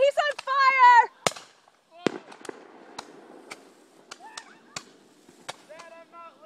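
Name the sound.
Roman candle fireworks being fired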